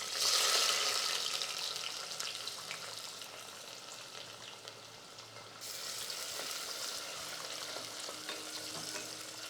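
Sliced onions with cloves, star anise, cardamom and cinnamon sticks fry in oil, a continuous sizzle with stirring scrapes, loudest at the start and then settling to a steady moderate hiss.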